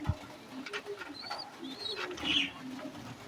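Soft pigeon coos and murmurs repeat over a low background hum, with a few faint chirps mixed in; moderately close, no talking.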